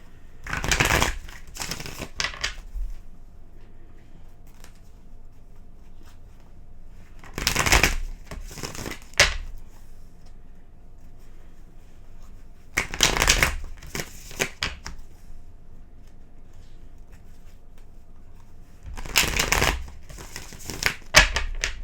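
Tarot cards are shuffled in four separate bursts of quick riffling, close and crisp, with quiet pauses between each round.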